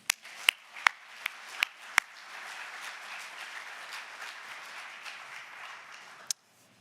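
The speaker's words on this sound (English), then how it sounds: "Round of applause." At a retirement ceremony, a handful of loud, distinct claps open the clip before softer, scattered applause from the audience settles in, ending on one last sharp clap.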